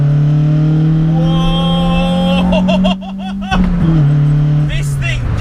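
A Toyota Starlet SR fitted with a 170 bhp 4A-GE engine swapped from a Corolla accelerates hard from inside the car, with a loud climbing engine note, a brief dip during a gear change, then more revving.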